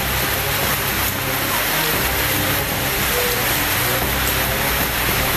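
Rain falls on a flooded street in a loud, continuous wash of water noise, with a low rumble of traffic and faint voices in the background.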